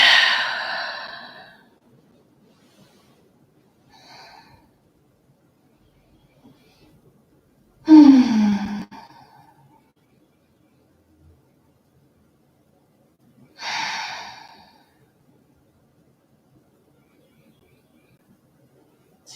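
Three separate deep exhalations during a yoga stretch, each a breathy sigh a few seconds apart with quiet gaps between, close and fairly loud, no talking.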